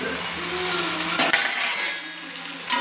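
Chicken frying with spices in an open pan sizzles steadily while a utensil stirs and scrapes it, with a couple of sharp clinks against the metal; no talking.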